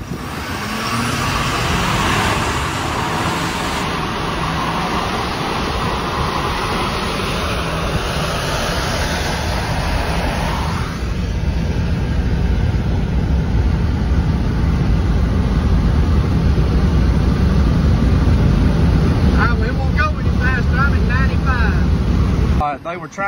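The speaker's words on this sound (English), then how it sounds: "We're just gonna mash the gas and go." Ford Powerstroke diesel pickups, a 2022 and a 2023 High Output, roar under full-throttle acceleration, a loud, close, sustained engine drone that climbs in pitch and then shifts as they pull away.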